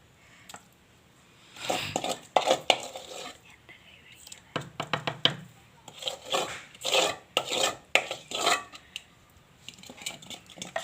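Kalan curry with buttermilk and ash gourd being stirred in a pot, giving repeated bursts of rasping, scraping spoon strokes against the pot with short pauses between them and no voices.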